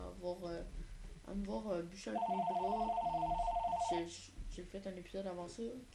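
A telephone rings in steady repeated tones for about two seconds, partly under someone talking in French, who carries on speaking before and after the ring.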